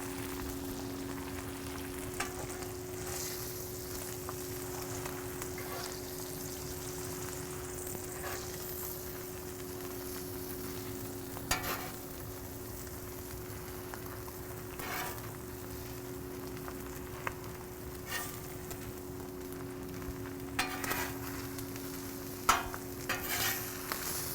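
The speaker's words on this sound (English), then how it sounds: "Kind of flatten them out, just light hand with the spatula and just sort of let the spatula's weight do the rest." Eggs fry on a Blackstone flat-top griddle, giving a constant close sizzle, with a few sharp spatula taps and scrapes as they are pressed flat.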